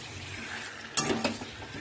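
Chicken pieces being stir-fried in oil in a pan for a red Bengali chicken kosha, giving a steady close sizzle with a couple of sharper spatula scrapes and clinks near the end.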